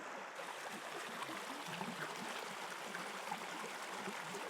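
A small stream of live water runs through a wooded lot in Maine, a steady close babbling and trickling that continues evenly throughout with no voices.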